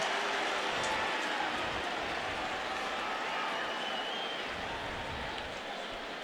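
The TCU football crowd at the 2015 Alamo Bowl against Oregon gives off a steady, distant roar with scattered applause-like noise that fades slightly toward the end.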